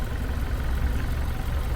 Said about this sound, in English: It's a 2-liter turbocharged 4-cylinder